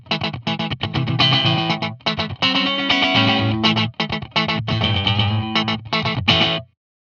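An electric guitar played through a Source Audio Nemesis pedal set to a 16th-note slapback delay, a busy riff of chords and single notes with quick tight echoes, loud and close, ending abruptly, with no voices.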